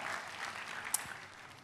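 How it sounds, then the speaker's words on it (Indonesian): Church congregation applauding for Jesus during a service, a steady wash of clapping throughout that softens slightly toward the end, with one brief sharper accent near the middle. "Yang diberkati tepuk tangannya boleh yang paling meriah buat Yesus Tuhan kita."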